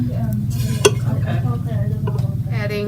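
A flour and butter roux cooks in a pot for tomato soup, with a steady low sizzle and soft scraping stirs, plus one sharp utensil clink against the pan.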